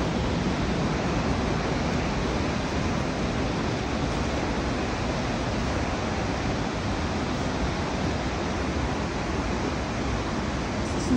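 A waterfall pours in a steady, loud broadband rush that stays constant and unbroken throughout, with no talking over it.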